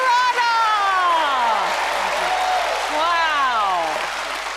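Applause from the audience of a Penn and Teller magic show continues beneath loud, expressive talking and calls that sit prominently over the clapping.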